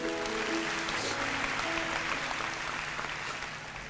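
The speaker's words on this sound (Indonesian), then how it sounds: "Beri tepuk tangan untuk Tuhan Yesus." A church congregation applauds, many hands clapping in a dense wash that holds steady and then eases slightly, with music tones faintly under it.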